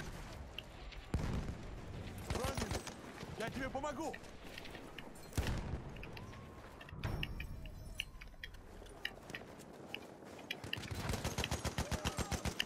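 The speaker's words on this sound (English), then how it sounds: "people shooting at me from up there again" Gunfire in the Battlefield 1 video game: scattered single shots and short bursts, ending in a rapid machine-gun-like stream of pulses, over a busy battlefield background.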